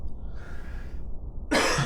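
A single close cough from a podcast host at a microphone, a short harsh burst near the end following quiet room tone, with no talking.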